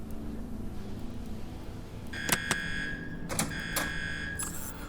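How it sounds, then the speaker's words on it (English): A switch triggers an alarm in UnderRail. A few seconds of low game ambience give way to a loud, steady electronic alarm tone that pulses with repeated bursts, with no voices. "That sets off the alarm."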